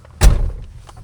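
A high-clearance Jeep's rear hatch slams shut at night, a single heavy thud up close that fades into low engine rumble.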